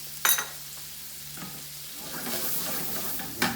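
Steaks, shallots and green peppercorns sizzle in butter in a pan, a steady frying hiss with sharp bursts at the start and near the end as the peppercorns go in, close and fairly loud with no talk.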